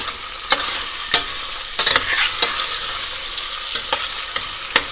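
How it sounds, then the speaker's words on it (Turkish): About 250 grams of slightly fatty diced beef fries in hot oil with a bright, hissing sizzle, crackling spatters and a few sharp utensil clacks, close and without speech. "Şöyle 250 gram kadar biraz hafif yağlı kuşbaşı etimi ısınan yağın içerisine ilave ediyorum."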